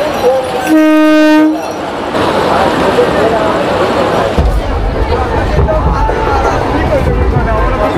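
Train rolling between Thakurnagar and Chandpara stations, a loud horn blast at the start, then a steady rumble and wheel clatter heard from inside, with people chattering in the carriage.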